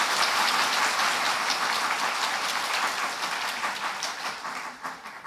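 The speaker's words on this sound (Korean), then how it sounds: "함께 박수로 축복하겠습니다" A church congregation claps together in sustained applause during a service, dense and even, gradually thinning and fading toward the end, with no voices over it.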